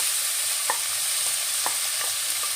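One large onion sautéing in about 50 grams of melted butter, giving a loud, steady close-up sizzle with a few faint stirring clicks scattered through it, no voices.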